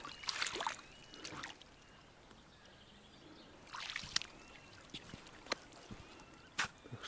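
Water flowing during a spring duck hunt in Komi: a faint, steady rush of running water, broken by a few louder splashing bursts, with no voices.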